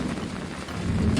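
Steady cartoon thunderstorm ambience on a stormy night, with dense rain hiss and a low rumble of thunder swelling slightly toward the end, no voices.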